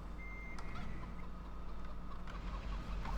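Chickens cluck in the Farming Simulator 2013 video game, soft scattered clucks blended with a steady engine hum and a faint beeping tone, fairly quiet and without talk.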